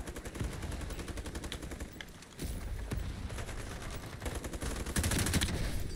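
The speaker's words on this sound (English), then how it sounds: "I do like the MG3. I think, in my opinion, it's the best LMG this game has to offer at all." An MG3 light machine gun fires in Ironsight with rapid sustained bursts, short pauses between strings of shots and faint other battlefield gunfire underneath, all at moderate loudness.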